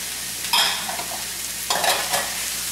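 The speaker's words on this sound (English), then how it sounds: "Give that a good mix." Diced tomatoes and vegetables, part of a farm-fresh vegetable succotash, are stirred in a sizzling pan, with two short bursts of scraping and frying crackle over a steady low hiss.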